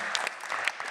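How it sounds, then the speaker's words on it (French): Brief burst of audience applause at a French conference session on healthcare, dense clapping throughout a short moment. "on peut vous applaudir à nouveau"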